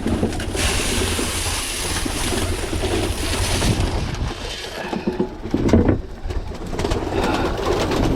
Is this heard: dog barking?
no